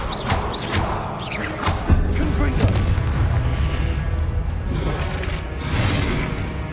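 In the video game Hogwarts Legacy, the Incendio fire spell goes off as a burst of whooshing flame and booming impacts with whistling bursts, over game sounds and a voice.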